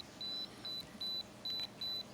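A battery capacity tester's alarm beeps five times in a steady, evenly spaced pattern of short high-pitched tones, close and clear over a faint background hiss.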